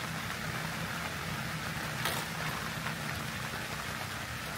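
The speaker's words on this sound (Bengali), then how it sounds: "চারিদিকে ঝুম বৃষ্টি।" Heavy rain pours steadily around a campsite tent, a dense, constant hiss of drops on surfaces with a brief louder burst midway, heard alone without voices.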